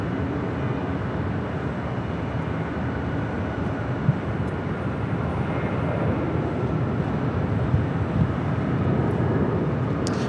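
A Boeing 767-400ER airliner at Los Angeles International Airport gives a steady, broadband engine roar that holds loud and even throughout, with no voices.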